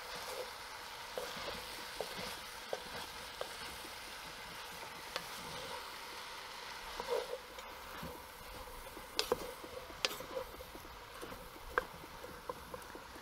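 Chinese cabbage frying in a Dutch oven, a soft, steady sizzle with sporadic light clicks and scrapes of stirring, fairly faint and uninterrupted by talk.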